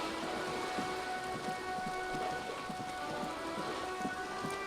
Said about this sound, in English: I just noticed that when it's raining, there's little droplets on the ground.